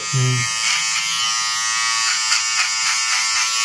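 Electric hair cutting machine buzzing steadily at close range for a few seconds, a continuous whirring drone with slight fluctuations as it moves, brief low tones at the start.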